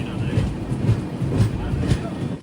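A passenger express train on Indian rails rolls along just after pulling out of Perambur, with a steady low rumble and faint rhythmic clacks from the wheels, heard close from inside a 3AC coach.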